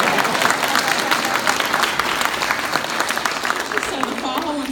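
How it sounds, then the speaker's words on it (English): A church congregation applauds in a steady, dense wash of clapping that carries on throughout, with voices mixed in. "Y'all clap."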